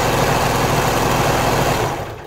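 A serger runs continuously, sewing a lettuce hem on stretched knit fabric, a loud, fast mechanical whir that fades as it stops near the end.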